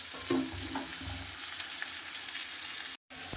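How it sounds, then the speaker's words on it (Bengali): Boiled raw jackfruit pieces fry in hot oil with a steady, hissing sizzle and a few soft stirring scrapes early on, close and quiet, broken by a brief gap near the end. "এঁচোড়টাকে সেদ্ধ করে এই যে ভেজে নিচ্ছি"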